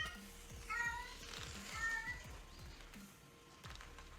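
A cat meows and caterwauls in yowling, rising cries, two drawn-out calls heard fairly close over a faint noisy background.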